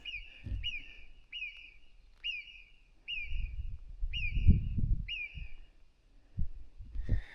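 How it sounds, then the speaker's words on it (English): On a mountain climb up Pic dels Pessons, a bird repeats a high, sharp, slightly descending call about seven times at a steady pace, over low rumbling wind and handling noise. "I can't even see a bird. I just hear the noise."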